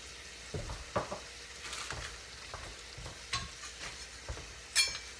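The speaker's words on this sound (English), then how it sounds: "Kind of mix it all in there together." Steak sizzles and fries steadily in a pan while being stirred together with marinara sauce and mozzarella, with scraping spatula strokes and occasional utensil clinks over the constant hiss.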